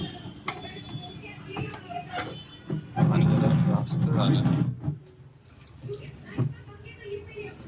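Tap water runs into a cooking pot in a home kitchen, a steady splashing rush that swells for a couple of seconds, with people talking nearby over it.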